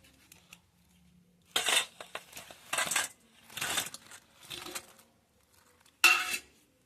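Dahi vada fritters go into a bowl one at a time, making several separate clinks and soft knocks spaced about a second apart, close by and fairly quiet, with silence between them.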